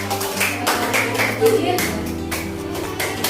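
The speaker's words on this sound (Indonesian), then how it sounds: "Beri tepuk tangan." A classroom of students applauding, with dense, fairly loud clapping that comes in bursts across the whole stretch and mixes with a faint background hum.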